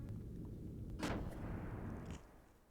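A ship's gun in the video game Xenogears fires once, a sharp blast with a short rumbling tail over a low background hum, followed by a fainter second report.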